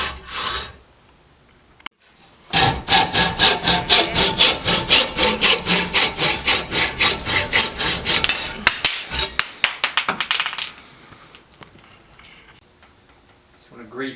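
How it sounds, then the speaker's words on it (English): A hacksaw cuts off a part during a Cannondale SuperSix EVO road bike build, making a close, loud run of rapid rhythmic rasping strokes for several seconds before slowing and stopping. "hacksaw in there to cut this off, and it's gonna basically cut that off just about 5mm below that line"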